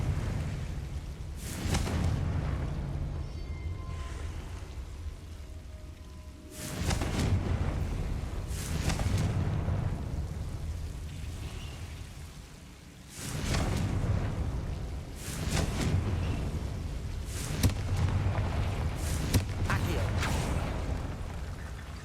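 Repeated Confringo blasting-spell explosions from Hogwarts Legacy, several loud bursts with deep booming rumble spaced a few seconds apart over continuous game background noise.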